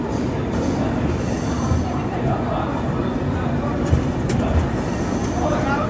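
The Vivek Express train pulling into platform 1 at Vijayawada Junction, a loud continuous rumble of wheels on rails with faint squeals and clatter, heard up close under a voice.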